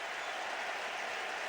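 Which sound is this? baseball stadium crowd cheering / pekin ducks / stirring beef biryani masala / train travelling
baseball stadium crowd cheering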